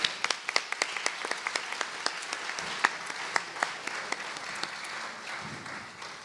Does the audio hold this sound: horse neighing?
no